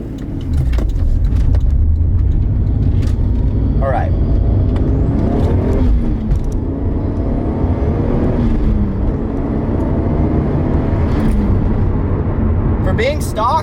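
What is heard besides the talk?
Toyota MkIV Supra accelerating on a pull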